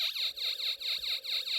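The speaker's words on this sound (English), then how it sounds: "This is the police siren amplifier. When I turn on the slide switch," Electronic police siren from a Snap Circuits Extreme SC-750 amplifier project, a loud, steady rising-and-falling wail that repeats fast and evenly, with no other sound around it.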